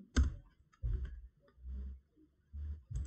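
Sharp mouse button clicks while drafting in AutoCAD, five or six short, quiet taps spaced irregularly at close range with faint room noise between them.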